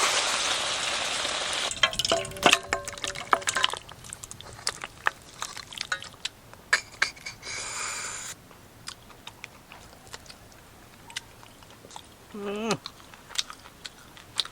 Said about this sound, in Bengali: এই দেখুন কত সুন্দরভাবে কষিয়ে নিলাম